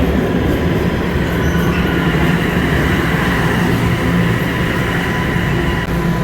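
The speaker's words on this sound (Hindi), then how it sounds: "तो सबवे हमारी आ चुकी है और काफ़ी खाली खाली लग रही है।" A subway train pulls into a station with a steady, loud rumble of wheels on rail and faint squeals, a continuous mechanical roar filling the whole stretch with no talk.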